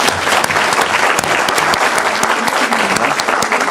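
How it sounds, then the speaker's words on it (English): Loud, dense applause from an audience thanking the speakers after a Q&A session at a condominium convention, sustained and close throughout with no pauses. "please give the speakers a nice warm applause"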